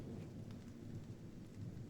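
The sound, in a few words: rain and thunder in video game Silent Hill 2 Remake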